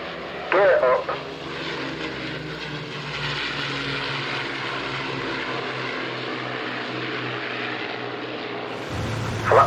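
A four-engine Avro Lancaster bomber in flight, its propeller engines droning in a steady, loud, continuous roar, with a brief voice near the start.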